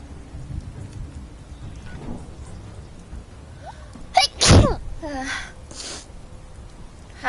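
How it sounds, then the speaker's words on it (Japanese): A young Japanese woman gives a single loud, sharp sneeze, followed by softer breathy sounds, against a quiet background. "あ、くしゃみした。"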